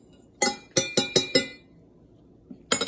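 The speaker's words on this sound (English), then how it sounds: "And I'm just going to stir it a little bit to make sure everything is" Melted soap mixture being stirred in a glass container, with five sharp clinks of the utensil against the glass in quick succession, a pause, then more clinks at the end.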